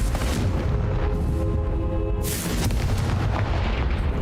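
Confringo spell blasts in Hogwarts Legacy land as booming explosions over a constant, loud game soundscape, with a sharp burst of crackling impact about midway through.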